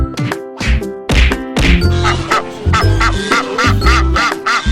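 Loud cartoon-style duck quacks, likely from a duckling, repeat in quick bursts over a backdrop of music with bright whacks and chimes, close and punchy.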